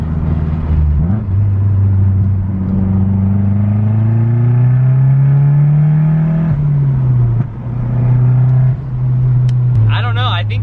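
A car fitted with a CorkSport top mount intercooler pulls hard through the gears, its engine note climbing loudly and then dropping at each shift, close and heavy, with a brief chirp of turbo noise near the end and a voice speaking over it.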